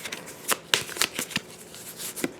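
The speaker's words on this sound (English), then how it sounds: "I'm shuffling up this deck." A deck of Etherfields board game cards is shuffled up close in a quick run of crisp riffling bursts that repeat over about two seconds, with no talking.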